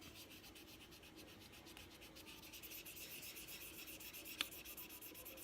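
Quiet rhythmic rubbing as 1000-grit sandpaper works back and forth over a Glock polymer trigger guard, close and soft in steady repeated strokes, with one brief tap near the end.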